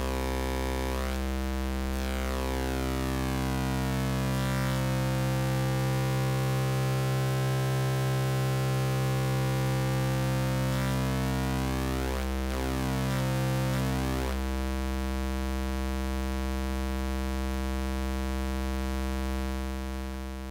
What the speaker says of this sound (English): this is adding frequency modulation to the waveform, and I'm going to turn it up so you can hear